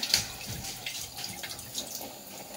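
Running tap water splashes steadily over fresh herbs being washed in a sink, a close, continuous trickle with light splatters.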